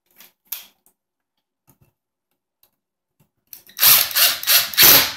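A power tool tightens a C6 bolt during furniture assembly: a few faint clicks and taps over near silence, then a loud, close, buzzing whir in several short pulsing bursts over the last second and a half.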